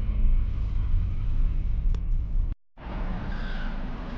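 Street traffic outside a school in the morning, a loud continuous rumble and hiss of passing vehicles close by, broken by a brief moment of silence before resuming.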